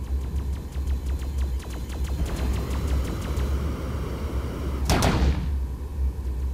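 Enemy gunfire from behind in the space game Phantom Galaxies, a quick series of sharp, evenly spaced shots over a steady engine hum, followed by one brighter blast near the end.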